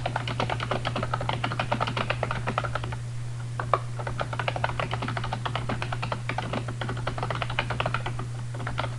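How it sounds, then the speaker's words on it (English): Steady typing on a computer keyboard, a dense run of quick key clicks at close range with a brief pause midway, over a constant low electrical hum. "let's type something more meaningful"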